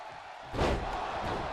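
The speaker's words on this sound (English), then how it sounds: "Oh, now that he's been again slammed." A wrestler is slammed down hard on the mat during a wrestling match, a sudden loud thud followed by sustained crowd noise.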